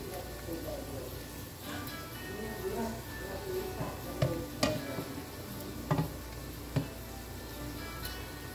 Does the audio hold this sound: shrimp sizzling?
yes